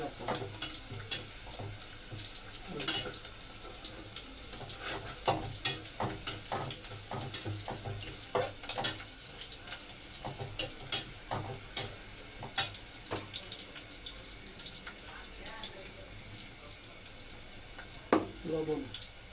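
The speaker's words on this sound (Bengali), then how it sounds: "আলু দেওয়ার পরে কিছু সময় কষাইতে হবে" Potatoes sautéing in a pan, a steady low sizzle with frequent scraping and stirring clatters throughout, fairly quiet and continuous, one sharper knock near the end.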